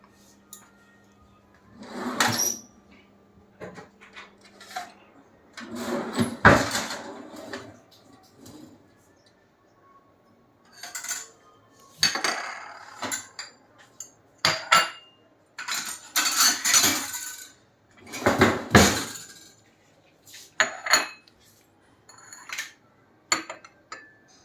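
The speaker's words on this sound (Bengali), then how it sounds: "ম্যাচিং নেই, 3 রকমের প্লেট বার করলাম।" Plates being taken out and handled with cutlery: scattered clinks, knocks and scrapes of crockery in irregular bursts with quiet gaps, fairly close, and no one talking.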